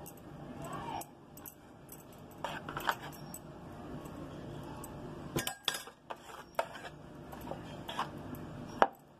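A spoon works fried egg into rice for restaurant-style mixed fried rice, giving faint, irregular clinks and scrapes against a pan or plate, with a few sharper taps standing out.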